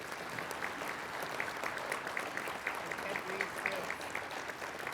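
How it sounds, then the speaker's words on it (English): Steady applause from an audience at a regular council meeting, a continuous dense patter of many hands clapping at moderate level throughout, with no talk over it. "We owe them a round of applause at this point."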